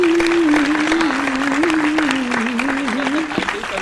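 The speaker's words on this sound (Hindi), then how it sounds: "एक साथ सब ताली बजा दिया करें।" A live audience at a Hindi poetry recital claps together in a dense, steady burst of applause lasting throughout, with a sustained held vocal tone running beneath the clapping.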